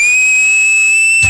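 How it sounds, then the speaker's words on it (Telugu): On a televised Telugu dance-show stage, a person gives one loud, sustained, piercing whistle held steadily close to the mic, dropping in pitch as it ends. "మాస్టర్ విజిల్ ఇస్తా"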